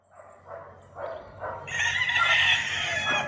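A new rooster loose in a backyard with hens: soft low clucking sounds, then a loud, close, drawn-out crow that carries to the end, with no talking.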